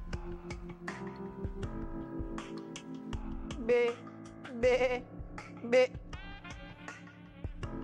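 A few sharp, high bleats cut through a busy background with music or other steady tones, three calls spaced about a second apart.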